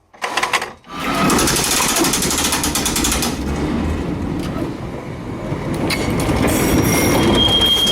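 A Nowa Huta tram in Kraków rolls along its rails in a loud, steady rumble, with metallic wheel squeal rising toward the end and a brief thump at the start.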